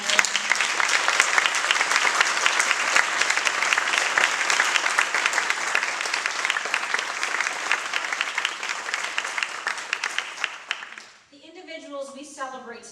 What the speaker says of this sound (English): would you please join me in one final round of applause for all of our 2018 alumni.